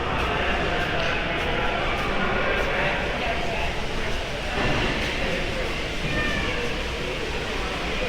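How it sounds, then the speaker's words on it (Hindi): A Rawal Express train stands at platform 2 of Lahore railway station at night, heard as a continuous dense rumble and hiss of the train and busy station, with voices talking throughout. "प्लेटफॉर्म 2 के ऊपर जो है वो ट्रेन आ चुकी है रावल एक्सप्रेस की"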